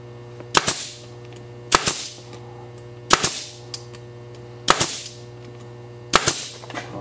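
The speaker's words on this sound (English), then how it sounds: "Just as a little extra precaution, we'll shoot a couple extra nails in there." A nail gun fires nails one at a time, five sharp loud pops spaced about a second apart with brief hissing tails, no talk.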